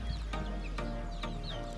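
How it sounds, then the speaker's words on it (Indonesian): Ayam Arab (Arab chicken) on a small farm clucks in a steady series of short, close calls, about four evenly spaced clucks over a constant low background hum. "Yang ini itu ayam Arab."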